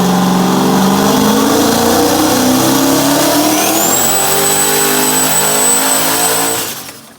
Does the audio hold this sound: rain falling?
no